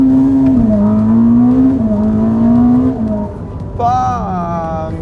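A 1000-horsepower Ferrari's engine drones steadily under acceleration and then climbs in pitch after a shift. A voice talks over it at close range inside the car.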